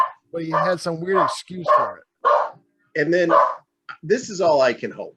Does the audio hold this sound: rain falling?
no